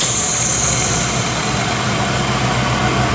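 A Hardinge HLV-H toolmaker's high-precision lathe spins with its collet closer running, giving a steady, even mechanical hum with a broad whir that holds constant throughout, close by and without talk.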